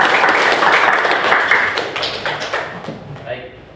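An audience at a school student council election debate breaks into loud, dense applause that gradually thins and fades over a few seconds.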